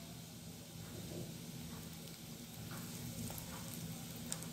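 Cumin seeds and asafoetida sizzling in hot oil in a pan, a continuous close hissing crackle with a few sharper pops rising partway through, no talking.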